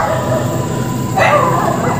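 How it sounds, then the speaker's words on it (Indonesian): A dog barks from a floor below inside an abandoned, derelict mall, a short burst of barking that sounds distant and echoey over a constant background hum. "Anjing menggonggong dari bawah sini"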